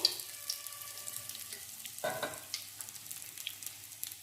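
Oil sizzling in a pan beside pushed-aside spices and peas before an egg goes in, a faint close crackle with a few sharper pops and light scraping, no voices.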